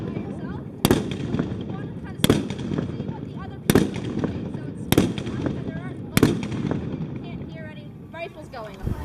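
Soldiers in Halifax, Canada fire rifles in an independent fire: five sharp, loud reports land about one and a half seconds apart, with people talking and chatting nearby throughout.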